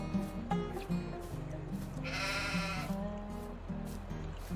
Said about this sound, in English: let's check on our sheep, see how these guys are doing